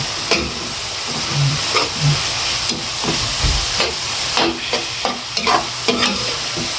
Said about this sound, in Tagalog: Haluin natin yung mabuti.